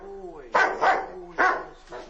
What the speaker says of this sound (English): He's just looking up in this area, just barking like that.